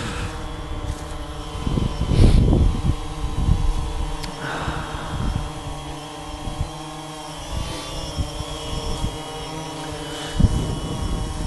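A DJI Phantom 2 V2 quadcopter with new motors flying in to land, its steady whirring rotor drone holding throughout with rising and falling surges as it approaches fairly close.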